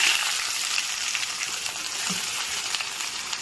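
Onions sizzle in hot oil with fried urad dal for semiya upma, a steady close crackling fry with a faint stirring knock partway through.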